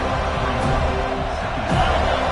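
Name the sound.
stadium crowd noise at football game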